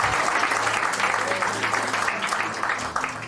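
Audience applause at a wedding reception during the speeches, a steady dense wash of clapping from a room of guests that continues evenly for a few seconds, close and fairly loud.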